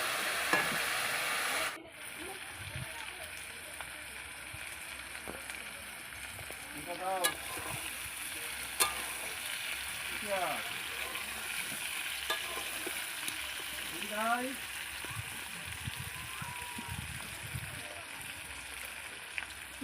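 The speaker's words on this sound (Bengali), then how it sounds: "দেখতে থাকো, হালকা হালকা করে নাড়াবে।" Food fries gently in a pan on low heat while a spatula stirs it now and then, giving a soft constant sizzle with scraping strokes and clinks; a person talks intermittently over it.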